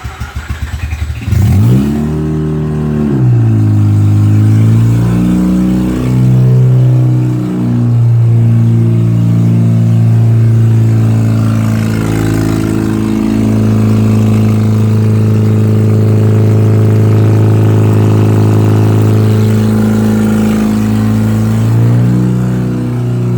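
A Mazda RX-8 rotary engine, before a midpipe install, revs loud and close, climbing in pitch from idle, then holding a steady high drone with a few brief dips and swells.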